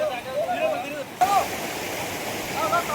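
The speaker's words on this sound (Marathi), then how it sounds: "असा ओढा आहे, वरून हातवात आलाय." Water of a village mountain stream rushing down in a steady broadband flow, heard close and fairly loud, with a person talking over it.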